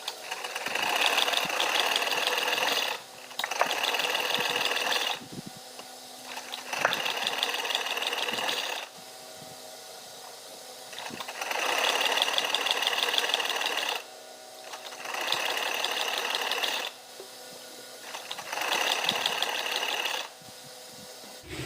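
An electric sewing machine stitching a palazzo garment runs in repeated bursts of a few seconds each, its fast mechanical whirring and needle clatter broken by short quiet pauses, close and alone.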